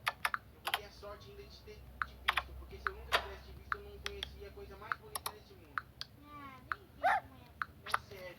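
Keys tap on a computer keyboard set to a custom key sound, sharp isolated clicks spaced unevenly across the stretch, close and crisp, with soft voice-like chirps mixed in between presses.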